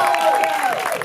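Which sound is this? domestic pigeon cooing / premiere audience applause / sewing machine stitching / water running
premiere audience applause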